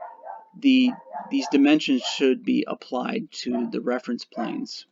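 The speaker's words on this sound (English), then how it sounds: "sorry if you can hear the dog barking" A dog barks upstairs, muffled and intermittent beneath a man's steady nearby speech.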